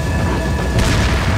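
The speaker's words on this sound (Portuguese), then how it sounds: "Eita, bomba!" A bomb goes off in Resident Evil 4, a loud boom with a sharp crash near the end of a dense, rumbling game soundtrack, no voices over it.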